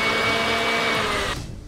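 An electric mixer whips heavy cream with powdered sugar and peppermint extract, a loud, steady motor whir with a rough churning texture that cuts off abruptly near the end.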